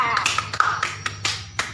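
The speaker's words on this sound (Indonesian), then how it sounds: "Tepuk tangan dulu untuk Nabila." A classroom of pupils clapping their hands in scattered, uneven bursts, with a few sharp individual claps standing out amid background chatter.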